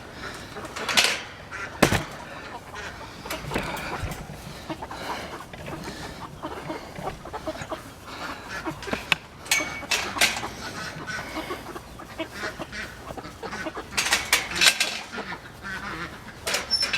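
Meat bird chicks move out onto grass, giving faint, scattered peeps and chirps with occasional louder calls and soft rustling, heard from close by.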